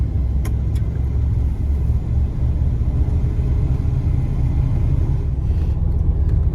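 Steady low road rumble inside a car cruising on a quiet desert road near Bullhead City, a constant engine and tire drone with no talking.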